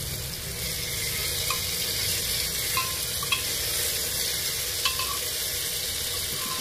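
Tomatoes fry in a pan for soybean pulao, giving a steady close sizzle with faint stirring clicks and scrapes throughout.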